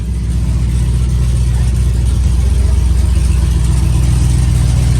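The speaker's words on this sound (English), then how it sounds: "The truck is alive. It's open header, so that's why it's so loud." A 2013 Dodge Ram single cab fitted with a TRX supercharger engine runs with open headers, a loud, steady, deep rumbling idle with a throbbing low-pitched pulse throughout and no talking.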